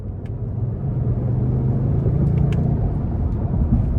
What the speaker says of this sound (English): I just love putting my foot down and feeling the turbos push this V6 to its limits